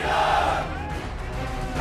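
Crowd of protesters in a street shouting and clamoring as police break up the gathering, a loud, dense mass of voices that thins slightly toward the end.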